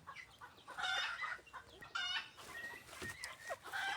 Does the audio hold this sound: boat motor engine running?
no